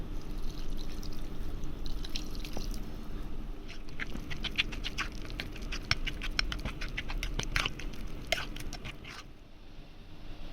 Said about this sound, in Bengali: এখন গরুর দুধ দিয়ে দেবো